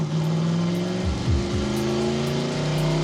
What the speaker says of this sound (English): I floored the Porsche and headed north.